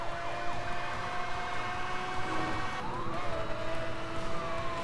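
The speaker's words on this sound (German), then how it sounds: "das ist die einzige, mit der man was anfangen kann, die Sirene." Police siren in the racing game Need for Speed Hot Pursuit, a wailing tone that sweeps up and down at moderate level over a low engine rumble, with no talk.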